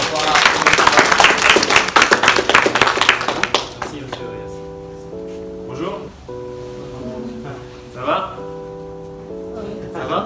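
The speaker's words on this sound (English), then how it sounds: "So round of applause." Audience applause for a French consulate speaker, dense clapping for about four seconds that stops abruptly, followed by sustained tones and voices talking.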